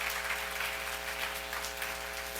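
A church congregation at a Leviticus seminar gives faint, steady clapping. The applause is soft and distant under a constant electrical hum.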